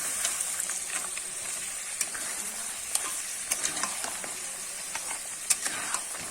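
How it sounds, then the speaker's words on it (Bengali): Crab and potato pieces sautéing in a pan for a Bengali crab curry, giving a loud, constant sizzle with frequent small crackles and spatula scrapes throughout. "কাঁকড়াটা আর আলুটা দিয়ে কিন্তু আমি ভালো করে একটু কষিয়ে নেব"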